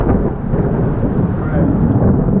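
Thunder rolls through a rainy thunderstorm out on the water aboard a metal boat, a loud, continuous low rumble filling the whole stretch with no break.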